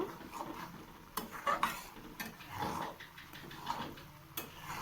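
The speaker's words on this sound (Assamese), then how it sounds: "এতিয়া হাই ফ্লেমত দি মই একদম পূৰা লৰাই থাকিম যাতে তলত লাগি নাযায়" A spoon stirs homemade ghee nonstop in a pan over a high flame. Irregular scraping strokes and light metallic clinks repeat close by over a soft background, with no speech.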